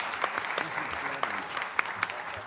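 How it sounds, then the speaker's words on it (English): Audience applause at a school board meeting: a room full of steady, close clapping with sharper individual claps throughout, sustained evenly for the whole stretch. "Let's give this group one more round of applause."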